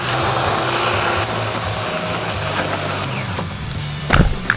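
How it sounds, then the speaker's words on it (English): A small electric chainsaw cutting tree limbs gives a steady buzzing whine with shifting pitch as it bites through wood, ending in a brief sharp knock near the close. "I'm giving my little electric chainsaw a workout here."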